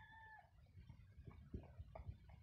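Hybrid chickens for sale at a rural market cluck in short, soft bursts at close range, with a brief rooster-like call at the start and quiet background murmur.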